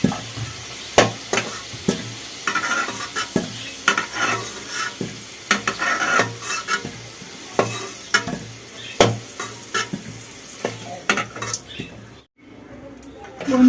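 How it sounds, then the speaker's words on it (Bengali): Potatoes fry in hot oil in a pan with a continuous sizzle, broken by repeated metal spatula scrapes and clinks against the pan. "চলুন বন্ধুরা তাহলে আমি আলুগুলো ভেজে নিই"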